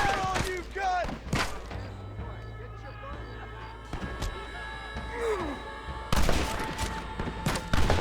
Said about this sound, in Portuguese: tem gente atirando em mim, eu não sei aonde